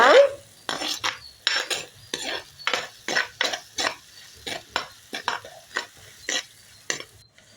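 A utensil scrapes and stirs sautéing vegetables for eggplant pachadi in a pan in steady repeated strokes, with a soft sizzle of food cooking underneath, no voices.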